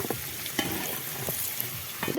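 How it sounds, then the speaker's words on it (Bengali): New potatoes frying in oil in a pan, a loud dense sizzle with repeated scraping stirs punctuating it, close and without talk. "লাল লাল করে আলুটা ভেজে নিব"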